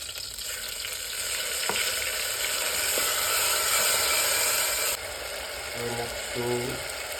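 Green chillies and mustard seeds spit and crackle in hot oil, a steady close sizzle with a few sharp pops, quieting partway through as brief clinks and stirring sounds follow.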